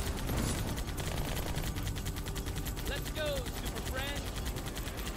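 Rapid turret machine gun fire in the video game Halo 2, loud and steady throughout, with chirpy electronic sound effects on top and a voice speaking over the din.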